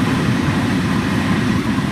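Long Island Rail Road train rolling through Nassau Boulevard station, a steady close rumble with dense low rolling noise and rail texture throughout, no talk.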